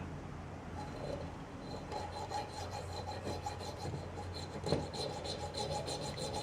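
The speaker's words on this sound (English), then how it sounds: "So now comes the laborious job of slowly filing out these holes to make one large hole." A hand file works out holes in knife steel for a Bowie blade, making a faint, repeated rasping with strokes in a steady rhythm at close range and no talk.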